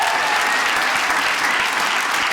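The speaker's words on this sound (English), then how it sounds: "give my wife a round of applause" Stand-up comedy audience in a club gives sustained applause, a thick, even roar of clapping with no breaks that fills the room at steady loudness.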